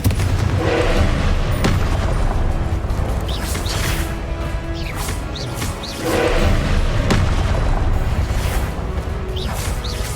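Confringo spell blasts in Hogwarts Legacy on PS5, a string of heavy booming explosions with fiery crackle, rolling one after another at close range over a loud, busy combat background.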